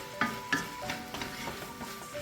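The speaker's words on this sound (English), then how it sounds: "I'm going to stir fry this" Chicken is stir fried in a pan for a chickpea tomato stew, giving a few distinct scraping strokes of a utensil over a gentle background sizzle, close and moderately quiet.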